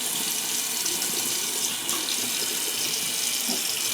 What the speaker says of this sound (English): Just put that in some hot water there and fill this back up real quick.